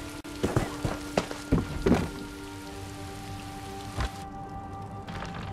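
Rain falls inside a building in the Elder Scrolls Online video game, a steady hiss with a few heavier drop-like thumps and a faint background hum.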